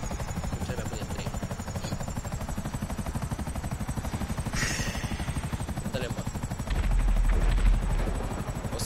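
Helicopters in the video game GTA 5, a steady loud rotor drone running throughout alongside bursts of gunfire, swelling louder near the end.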